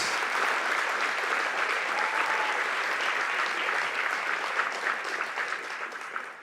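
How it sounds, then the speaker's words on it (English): A banquet audience at an alumni awards dinner gives the faculty a warm round of applause, dense and even before thinning and fading toward the close. "Let's give another round of applause to all of our outstanding faculty."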